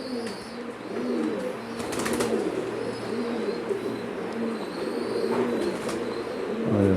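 Cooing from an Imamdeen pigeon hen, an older bird, repeating in a steady rhythmic series of soft throaty coos close by, with a brief flutter of wings partway through and no talking.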